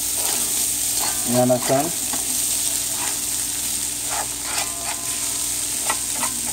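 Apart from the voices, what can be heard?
quinoa frying on the stove for fried rice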